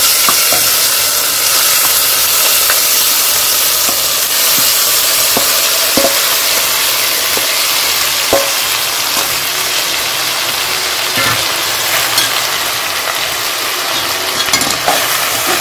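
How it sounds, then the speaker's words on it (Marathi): Rice sizzles and fries in a pan with clove and cinnamon while being stirred, with a steady loud sizzle and occasional scraping clicks throughout. "आपल्याला व्यवस्थित परतवून घ्यायचं."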